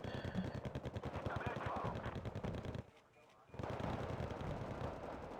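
Rapid machine-gun bursts and gunfire from the real-time strategy game Wargame: Red Dragon rattle almost continuously, loud and dense, breaking off into a short near-silent gap before resuming at full intensity.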